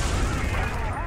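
Gunfire in the video game Halo 3 ODST, a dense continuous burst of shots with broadband crackle and low rumble throughout, steady and loud with no pauses.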